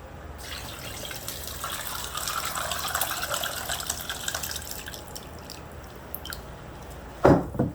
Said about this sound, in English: Strain the coconut.